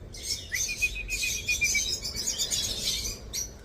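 Pet cockatiels in a breeding cage chirp and tweet in bright, repeated bursts, fairly close and clear, with short pauses between calls and no talking.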